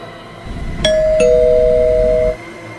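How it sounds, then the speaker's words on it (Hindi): A doorbell rings once indoors, a clear two-tone ding-dong that rings out for about a second and a half before cutting off, with no other sound around it. "अचानक उसे डोरबेल की आवाज़ आती है।"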